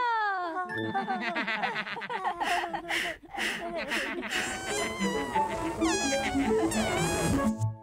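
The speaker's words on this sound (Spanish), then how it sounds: "¡Gato!" A cat meows several times in bright, wavering cries, mixed with playful chimes and squeaky children's-show sounds that rise and fall over a few seconds.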